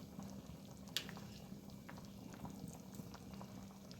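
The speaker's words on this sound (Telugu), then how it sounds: "మూత తీసి చూద్దామండి పులుసు మరుగుతుంది చూద్దాం ఒకసారి" A pot of tamarind fish stew bubbles softly at a gentle boil, with small pops and a brief clink, faint and close.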